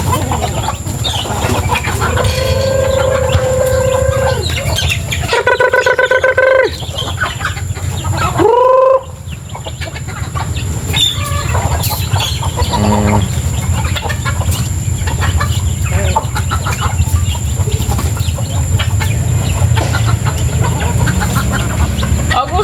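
Hungry chickens clucking and calling near at hand on a farm before feeding, a rooster among them, with scattered squawks and a brief burst of loud cries amid steady background noise.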